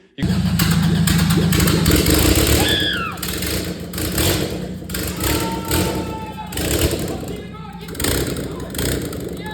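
A Honda EK hatchback with a swapped B-series engine starts up loudly and close, settling into a rough idle with small revs and clunks, while people talk over it.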